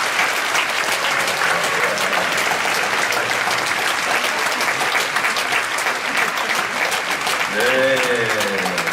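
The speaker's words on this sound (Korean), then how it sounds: "우리 청년들을 위해서 박수 한번 치겠습니다." A church congregation at a Friday night worship service applauds the young people, steady dense clapping filling the hall throughout, with a voice briefly rising near the end.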